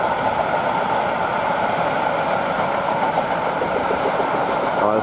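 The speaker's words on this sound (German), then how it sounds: "Und ein Doppelpack von 186 Railpool und Locomotion mit einem leeren Zug" Class 186 electric locomotives, a Railpool and a Locomotion unit running as a pair, haul an empty freight train on the Brenner north ramp, a loud, steady rolling roar of wagons passing close by with a brief squeal near the end.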